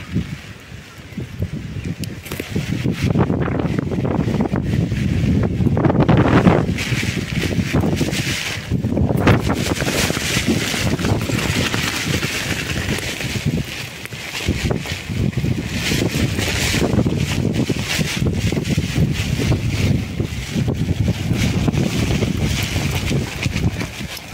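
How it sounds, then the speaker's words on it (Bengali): Strong gusts of Cyclone Remal's wind and driving rain batter a handheld umbrella, a loud, steady roar of wind noise buffeting the microphone throughout with no break. "উত্তর পশ্চিম হাওয়াটা আসছে"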